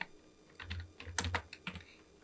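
Close keystrokes on a computer keyboard during web design coding, a quick irregular patter of soft clicks at low volume with no voice.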